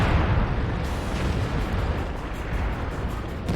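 A high-explosive tank shell fired in World of Tanks lands as a loud, deep rumbling blast that rolls on steadily, with a fresh crack near the end.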